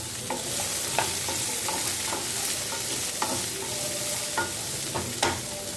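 Ground masala paste fries in a pan for a potato and pea kurma, giving a steady close sizzle with scattered scraping stir clicks throughout and no talking.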